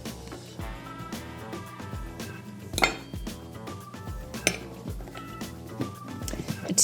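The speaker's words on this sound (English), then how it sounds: "I'm going to mix up 2 cups of my basic flour blend." Gluten-free flour blend being mixed in a bowl, a run of clinking and scraping utensil strikes against the dish, close and fairly busy, with a few sharper knocks.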